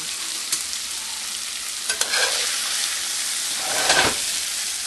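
A spoon scrapes and scoops cooked Swiss steak vegetables from a pan into a crock pot over a steady sizzling hiss, with a few soft knocks and clinks along the way.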